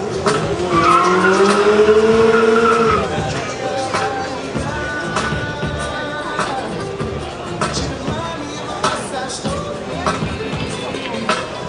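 A 170 HP Suzuki Maruti race car launches with a loud, climbing engine wail over a burst of tire squeal for about three seconds, then fades into a noisy crowd with a commentator's voice continuing over the babble.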